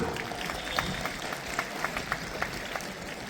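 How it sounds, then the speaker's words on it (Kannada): Scattered, sparse hand clapping from an audience at a Kannada Rajyotsava celebration event, soft and distant, with irregular claps over a steady murmur of room noise. "ಚಪ್ಪಾಳೆ ಹೊಡಿಬಹುದು."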